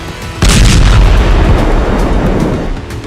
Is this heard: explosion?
yes